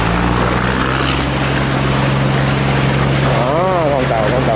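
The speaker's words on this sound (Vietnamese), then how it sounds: "Con tàu đực chạy rất là dữ luôn." A large Binh Thuan trawler's engine rumbles steadily as the boat enters the port at Lagi. The deep, continuous drone is loud and close, mixed with wind and water noise.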